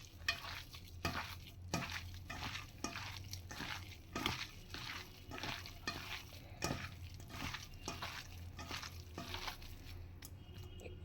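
Garlic paste and chopped tomatoes are stirred and mashed in a frying pan, a steady run of scraping, squelching strokes with a soft sizzle underneath, close and fairly quiet.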